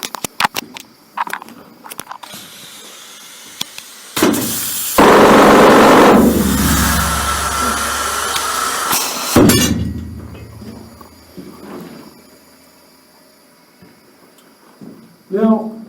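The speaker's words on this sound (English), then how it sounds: "we have a working model of the stope drill" A working pneumatic stope drill fires up inside a gold mine, blasting a loud, harsh, hissing roar for about five seconds before winding down, framed by scattered clanks and a voice speaking before and after.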